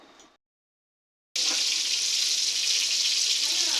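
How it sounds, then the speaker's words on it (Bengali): Rohu fish frying in oil in a pan: after a brief pause, a loud steady hissing sizzle starts abruptly and carries on evenly, close up with no talk. "মাছ ভাজি বসাই দিয়েছি"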